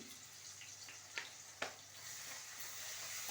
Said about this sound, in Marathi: आता हे छान परतून घ्यायचंय।